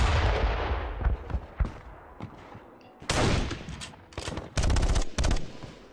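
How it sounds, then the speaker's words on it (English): Long-range machine gun fire in a WW1 squad tactics video game crackles in repeated bursts of sharp reports over rumbling battlefield noise, with dense volleys standing out near the end. "Yeah, some long-range machine gun fire."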